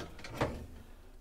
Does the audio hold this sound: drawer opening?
yes